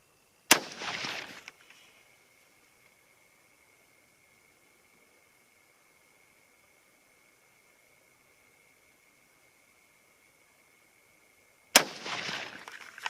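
Two sharp, loud 6mm ARC rifle shots firing 85-grain Sierra hollow point boat tail bullets, roughly eleven seconds apart, each followed by a short burst of rumbling noise, with near silence and a faint steady tone in between.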